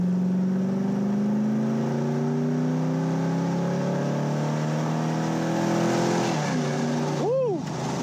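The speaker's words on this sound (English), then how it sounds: "All right, let's test out the acceleration." A 1984 Chevrolet Camaro Z28 accelerates on a back road, its engine note climbing steadily through the revs from inside the car before easing off, followed by a brief exclamation from the driver.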